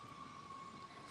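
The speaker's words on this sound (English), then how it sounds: "fire truck sirens" A steady fire truck siren tone holds over a dense, noisy rumble, faint and distant, heard from a cemetery as the truck passes far off.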